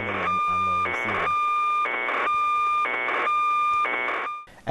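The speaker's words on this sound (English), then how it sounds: "Here we hear data coming in on the receiver." iMet-1 radiosonde telemetry received on a radio receiver: a constant whistling tone interrupted by rhythmic buzzy data bursts about once per second, loud and near, ending with a brief drop and click.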